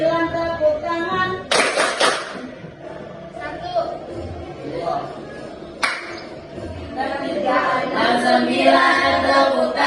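A classroom of students claps hands during a 369 counting icebreaker game, with short sharp bursts of clapping rising over steady group chatter and a teacher's voice.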